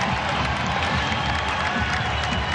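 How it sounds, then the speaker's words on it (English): A college basketball arena crowd roaring and cheering at a New Mexico vs Nevada men's game, a dense, loud, continuous wall of voices and clapping. "Corey Camper Jr. gets the crowd on their feet"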